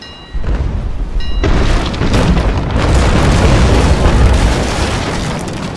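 Cannon fire in a brig ship battle video game: a loud booming blast erupts early, followed by sustained rumbling and crackling explosions that stay heavy and close throughout.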